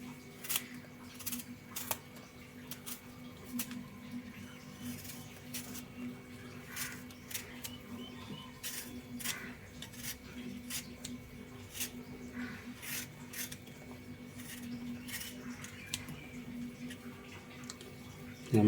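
Small cucumbers being scraped with a blade to strip their skin, heard as a run of short, close, rasping strokes in an irregular rhythm over a low background hum.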